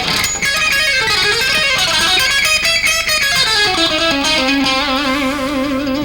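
Distorted electric guitar lick with harmonic minor-flavoured string skipping: fast, fluid runs of notes rising and falling, heavily processed with effects, loud and continuous with no talking.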